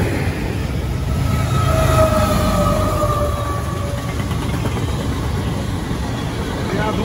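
A long freight train rolls steadily past close by as its trailing CP AC44 DPU locomotive goes by, giving a loud continuous rumble and wheel roar with a faint tonal whine drifting through.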